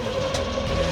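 A farm truck engine runs steadily at a low, even idle-like hum while backing into a garage, a brief continuous rumble heard up close.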